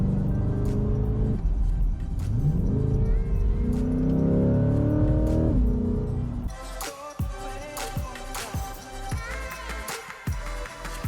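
A Chevrolet C8 Corvette drives on a mountain road, its engine climbing through rising revs, then a sudden drop into quieter cruising with bumps and clicks inside the cabin.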